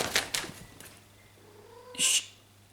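A male cat excited at the sight of neighborhood cats, giving a few short, loud cries near the start and a brief louder yowl near the end, indoors, with no talking.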